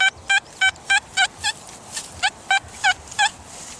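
Metal detector signal tone sounding on a largish target in the ground, a run of about ten short, evenly spaced bright beeps, fairly loud and close, with no voices.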